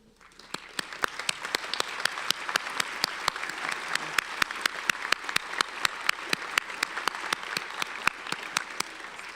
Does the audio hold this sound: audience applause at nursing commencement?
yes